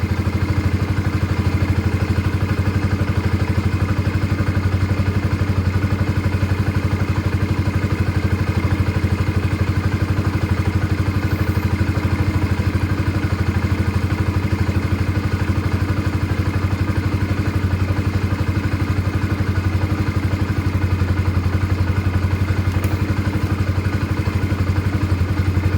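A motorcycle engine idles steadily up close, a constant loud mechanical thrum with a faint clattering texture that runs unchanged throughout, with no talk over it.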